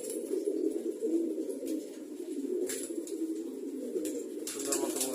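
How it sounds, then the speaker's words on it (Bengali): Domestic pigeons released inside a room on a winter morning coo steadily in a low, continuous murmur, with brief bursts of wing flapping breaking through at a few points; no voices are heard. "এখন আজকের শীতের সকালে কবুতরগুলোকে একটু রুমে ছেড়েছি"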